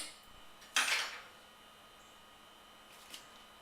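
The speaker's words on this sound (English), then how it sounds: "I'm going to use my fork because I think the whisk doesn't work as well with grated vegetables." A fork clinks against a bowl while mixing carrot cake batter with grated vegetables, one bright clattering burst followed by a faint tap, quiet and close.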